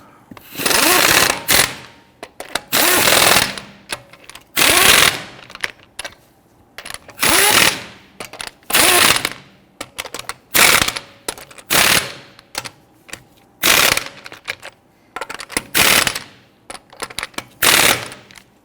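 A power tool rattles in repeated loud bursts while snugging sway bar link nuts on a 2010-2019 Ford Taurus, each burst lasting about a second, separated by short quiet gaps.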